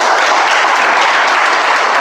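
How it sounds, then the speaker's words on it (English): Steady, dense applause from a Toastmasters meeting audience fills the whole stretch at close range, with no talk breaking through. "Can I have a better round of applause for the evaluator?"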